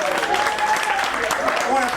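At a Black History brunch, an audience claps for the singer Teresa Songbird, a dense patter of hands that holds steady for a couple of seconds while a voice talks over it.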